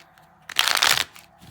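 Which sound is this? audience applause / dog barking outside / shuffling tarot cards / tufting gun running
shuffling tarot cards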